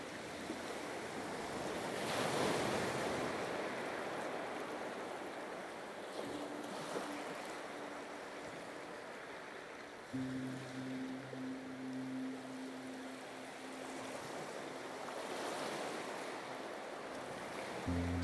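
Ocean waves and surf wash in a steady, broad roar that swells and recedes, with a low tonal hum entering partway through and continuing under the surf.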